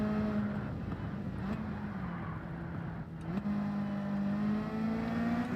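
Race car engine in the Gran Turismo 7 racing game, held high and droning steadily through the whole stretch, with a brief dip and pitch shift near the middle before it climbs back to a loud sustained rev.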